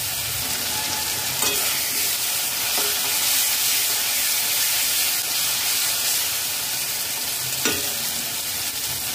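Tomato puree stirred and fried in a pan over a medium flame gives a steady close sizzle and hiss, with a few soft scrapes of the spoon against the pan.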